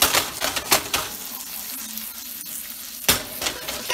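Salmon fries in a pan with a loud, crackling sizzle that surges in bursts and stirring scrapes, easing to a softer hiss through the middle before flaring up again.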